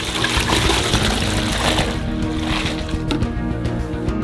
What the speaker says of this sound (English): For the caramel, pour 8 liters of milk into a saucepan in advance